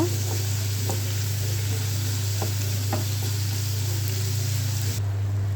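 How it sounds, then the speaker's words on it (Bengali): Ginger, onion, chili and garlic fry together in a pan, a steady close sizzle with occasional stirring scrapes and a constant low hum underneath. "এখানে সব একসাথে ভাজছি এখানে আদা পেঁয়াজ মরিচ রসুন দিয়েছি ভালো করে এটা আমি ভেজে নেব"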